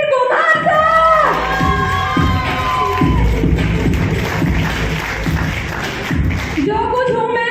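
A crowd cheers and whoops loudly at a recognition ceremony welcoming a guru, with excited shouts over the first seconds. Dense noise follows, and a voice returns near the end.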